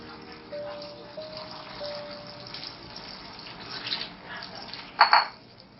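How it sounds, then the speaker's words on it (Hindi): A glass of water poured into chickpea masala for chana biryani, a soft, steady splashing and trickling, fairly faint, ending in a brief louder gush near the close. "छोले शामिल करने के साथ ही हमने इसके अंदर 1 गिलास पानी डालना है"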